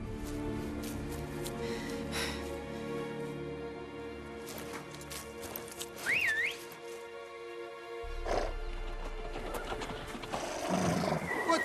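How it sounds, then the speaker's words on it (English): Horses whinny and neigh in the video game The Witcher 3: Blood and Wine, amid a busy layered soundscape with hoof clip-clops and background music, one high neigh standing out clearly near the middle. "Horses! Ready our horses!"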